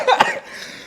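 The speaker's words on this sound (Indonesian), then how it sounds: "Batuk. Batuk." A single short cough, close and fairly loud, followed by a brief quieter tail of breath with no talking.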